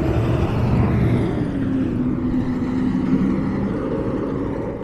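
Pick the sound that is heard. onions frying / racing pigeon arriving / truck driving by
truck driving by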